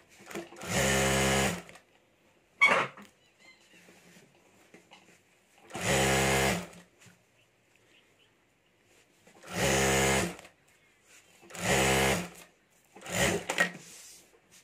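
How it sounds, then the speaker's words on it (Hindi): A sewing machine stitching a potali bag runs in four short, steady bursts with quiet pauses between them, along with a brief clack of handling. "तो यह मैं सिलाई कर देता हूँ।"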